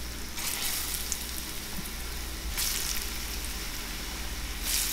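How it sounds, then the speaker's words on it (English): Pieces of Jaguar Guapote fish fry in hot homemade oil in a pan, giving a steady, dense sizzle throughout with a few louder crackling bursts. "hot-ass pan ready to go with the homemade hot-ass oil, we're going to go ahead and dunk the pieces right here into the pan"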